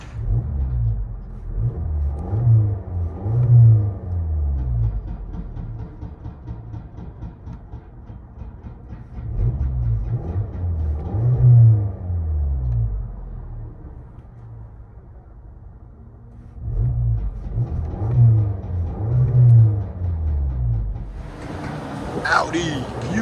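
Cabin view of a 2017 Audi Q3 2.0L turbo with a rear muffler delete and dual tips, its deep exhaust droning and swelling in repeated rev-ups over a steady low rumble.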